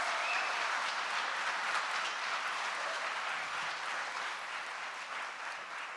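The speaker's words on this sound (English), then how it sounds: "Another round of applause." Steady, dense applause from a large tech conference audience welcoming a speaker, sustained and even for several seconds with no voices standing out.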